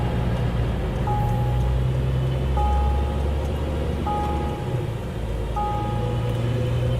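A Scania R500 truck with a 12.7-litre 500 hp DC13 engine accelerating, a steady loud low engine drone heard from inside the cab with a faint repeating beep over it.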